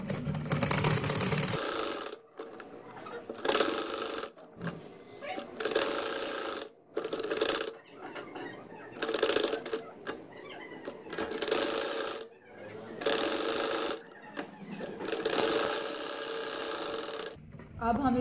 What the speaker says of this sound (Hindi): चलिए अब सिलाई लगाते हैं। यहां से सिलाई लगाऊंगी एक पैर के वक्फे के साथ।